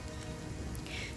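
Rain falls in the fantasy role-playing video game Pathfinder: Kingmaker, a soft, steady ambient patter at low level with no voices.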